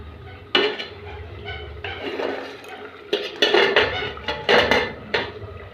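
A metal lid clatters and scrapes onto a pot of fish curry with rohu and puti fish, several sharp clinks and knocks in uneven bursts, close by with no voices.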